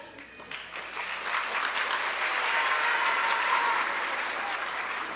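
Audience clapping at a junior high school awards ceremony, a full room of hands swelling from scattered claps into steady, dense applause that holds to the end.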